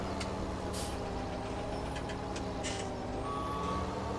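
A truck in Farming Simulator 17 idles with a deep, steady engine drone while faint reversing beeps and short air-brake hisses sound over it, with no voices.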